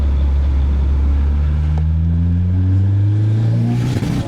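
A turbocharged Nissan 240SX, revived after sitting for years, revs hard while being tuned. The engine note climbs steadily in pitch as it builds RPM, loud and close, then drops off at the end.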